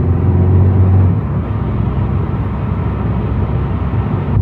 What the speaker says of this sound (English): there seems to be some traffic right now